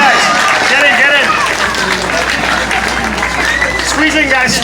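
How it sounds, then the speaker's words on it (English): Crowd applause and cheering for the Rebel skydiving team at the 2018 Revere Beach Sand Sculpting Festival, steady and fairly loud throughout, with an announcer's voice over the crowd. "We have a round of applause for our Rebel skydiving team"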